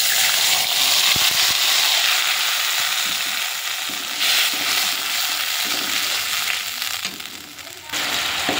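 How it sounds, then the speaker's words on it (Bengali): A spice paste of tomato, green chilli, ginger, garlic and onion fries in oil with a steady close sizzle, broken by a few scraping stirs and clicks of a utensil against the pan. "ভালো করে মশলাটা ভেজে নেব"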